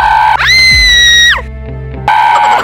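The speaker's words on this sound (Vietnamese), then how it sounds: "một tiếng thét thất thanh vang lên" A piercing, sustained scream sound effect on a TV game show rings out loud for about a second and drops off, then a similar high tone returns after a brief lower-pitched stretch.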